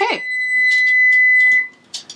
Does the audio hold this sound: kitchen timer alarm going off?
yes